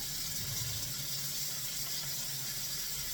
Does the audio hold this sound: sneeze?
no